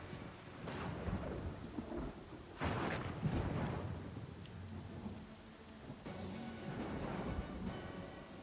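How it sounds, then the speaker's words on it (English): Steady rain and rolling thunder from a stormy scene in the video game Pathfinder: Kingmaker, a continuous wash of rainfall with heavier thunder rumbles swelling in at intervals, no talking. "We've got rain and lightning"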